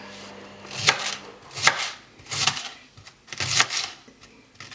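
A knife chops a leek on a cutting board in five distinct, evenly spaced thuds, each a crisp close strike with quiet gaps between.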